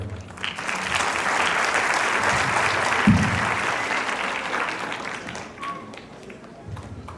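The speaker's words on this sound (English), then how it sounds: "Another round of applause for them." Sustained applause from a crowd at a primary school graduation ceremony, dense clapping that swells early and then gradually thins out toward the end.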